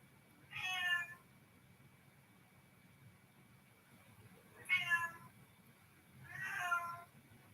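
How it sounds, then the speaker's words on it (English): A cat meows three times, each cry a short, clear, rising-falling call heard alone over low background hum, with a long gap after the first and the last two closer together. "Meow."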